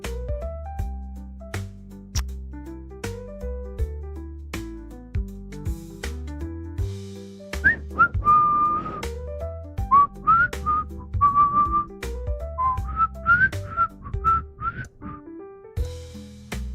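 A person whistles a melody over background music, the whistled notes clear and sustained for several seconds in the second half, close and fairly loud.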